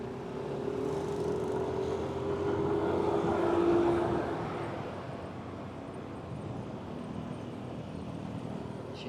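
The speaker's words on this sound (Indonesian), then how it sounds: "Sini banyak juga ya truk-truk yang melintas ya" Trucks passing on a road near Cikalongwetan, a continuous rumbling roar of heavy traffic that swells mid-way and fades, heard from inside or beside the road without talk.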